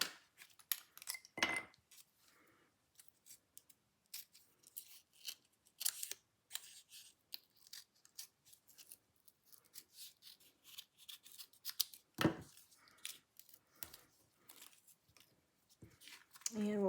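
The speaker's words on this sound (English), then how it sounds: "I'm going to cut this little piece off right here." Scissors snip a small piece of card stock during holiday card making, giving a string of short, quiet, close cuts and rustles at uneven intervals with no talk.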